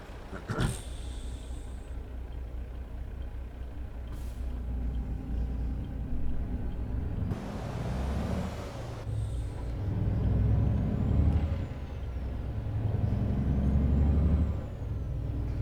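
A Ford F-Max truck in Euro Truck Simulator 2 hisses its air brakes with a sharp burst early on, then a longer release, over a steady low engine rumble that builds and eases as it drives.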